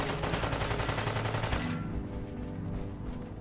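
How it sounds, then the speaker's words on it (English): Rapid automatic gunfire from the Fallout video game rattles in a dense, fast burst for about a second and a half, then gives way to a lower rumbling din of the fight. "What are we shooting at? A robot?"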